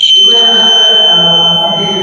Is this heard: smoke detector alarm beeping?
yes